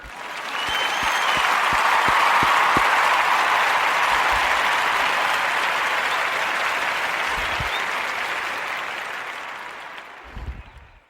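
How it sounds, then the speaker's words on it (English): Sustained audience applause with steady hand clapping fills the room after a request during a talk on the Senate and impeachment, loud and continuous for several seconds before tapering off near the end. "So if you'll give me a little hand clap."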